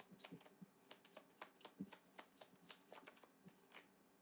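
Tarot cards being shuffled and drawn by hand at a live reading, a quiet run of soft riffling flicks and papery slaps in an uneven rhythm, with one sharper snap near the end and no talking.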